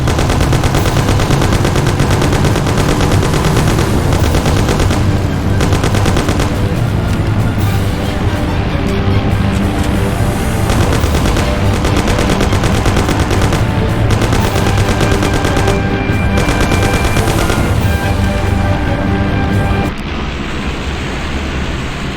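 Sustained loud gunfire in the Mafia video game, dense rapid bursts of shots layered over a rumbling car engine, with shouted lines from characters during the shootout.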